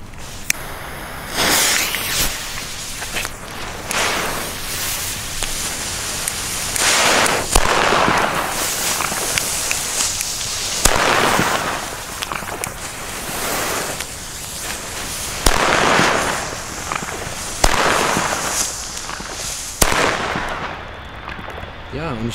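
Firecrackers thrown on a street on New Year's Eve go off one after another every second or two, loud sharp cracks with noisy tails, outdoors and close.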